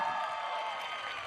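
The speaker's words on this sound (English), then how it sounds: "so give them a round of applause." Graduation ceremony crowd applauding for parents and guardians, a dense, steady wash of many hands clapping at once, fairly loud and unbroken throughout with no voices on top.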